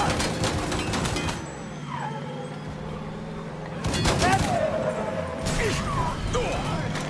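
Gunfire in the video game Mafia 3 during a vehicle chase, bursts of shots crackling alongside engine and crash noise, with a voice talking over the action.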